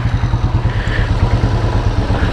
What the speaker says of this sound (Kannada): ಸೊ ನಾವು ಓಡಿಸ್ತಾ ಇರೋದು ರಾಯಲ್ ಎನ್ಫೀಲ್ಡು, ಗೊತ್ತಿರಬೇಕಲ್ಲ, ನನ್ನ ಫೇವ್ರೇಟ್ ಬೈಕು